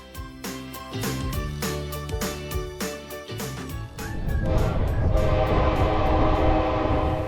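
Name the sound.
Coastal Classic train in Seward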